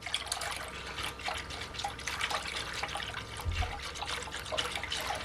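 Yeast granules, six or seven dry sachets, being stirred into lukewarm water for a brioche starter, giving soft continuous swishing and liquid trickling close by, with no talking.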